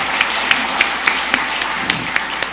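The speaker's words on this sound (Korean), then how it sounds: "우리 환영하는 마음으로 박수 한번 하도록 하겠습니다." A church congregation at Sunday worship applauds, giving a dense, steady patter of many hands clapping close by, with a few sharper claps standing out, brief and alone.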